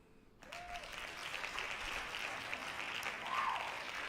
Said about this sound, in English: Hand claps to that.